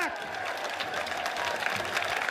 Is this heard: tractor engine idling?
no